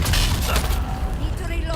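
Grenade explosion and gunfire in the video game Dune Awakening, dense booms and shots in a loud, continuous mix of combat noise, with a voice talking over the action.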